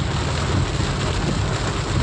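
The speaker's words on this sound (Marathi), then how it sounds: "बघा कसं पाऊस पडतो." Heavy rain pours down steadily as a dense, continuous hiss with no break, loud and close.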